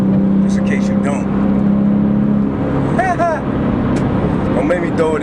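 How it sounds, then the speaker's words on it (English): A turbocharged car engine roars while driving in the rain, a steady loud engine drone with a sustained tone, heard under someone talking and some chirping background sounds. "I know you can hear that turbo engine roaring."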